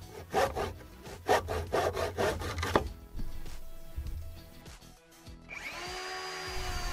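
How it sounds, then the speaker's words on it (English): A hand saw cuts through wood in quick rasping back-and-forth strokes, close and loud, then slows into scraping and rubbing before stopping. "the hand saw does a good job for now"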